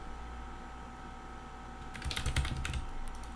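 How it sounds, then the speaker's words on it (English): Keys clatter as someone types a name on a computer keyboard in a quick burst of close clicks, preceded by a steady background hum, with no voices. "You simply have to type in a name,"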